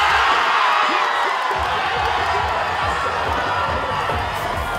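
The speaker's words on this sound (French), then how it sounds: "Au public viewing installé au centre-ville de Bienne, la foule explose de joie." A large crowd at an outdoor Eurovision public viewing in central Biel erupts in sustained cheering, whoops and shouts, loud and continuous throughout.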